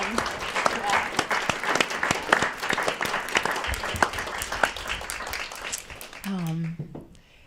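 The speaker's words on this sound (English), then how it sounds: "this really felt like an ending that maybe deserves a quick round of applause" A room full of people breaks into applause after a morning meditation session, dense clapping filling the space for several seconds before thinning out as a voice begins speaking near the end.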